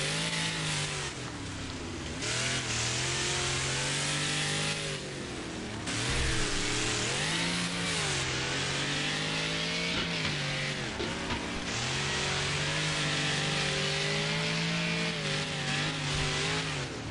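A slow race car in the Wreckfest video game drives continuously, its engine droning and rising and falling through gear changes, with occasional tire squeal and no talk over it.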